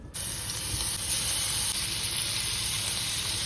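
Malai tikka chicken pieces hit a hot pan and break into a loud, sudden sizzle that holds as a steady bright hiss for a few seconds, very close and with no one speaking.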